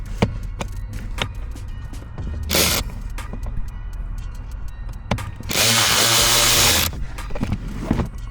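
A power screwdriver backs out the screws holding a blower motor resistor, with a short whirring burst followed by a longer one, close by and amid light handling clatter.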